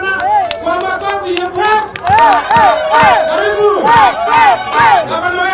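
A crowd at a political gathering in Kiambu for the governor shouts and cheers in loud, rising bursts, with voices whooping and chanting close by and someone speaking over the noise.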